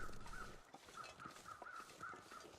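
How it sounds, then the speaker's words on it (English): Crows caw repeatedly in the video game The Long Dark, faint and distant, over a steady windy outdoor ambience. "I hear two sets of crows"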